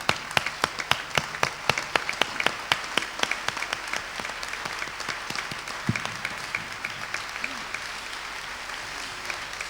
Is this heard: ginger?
no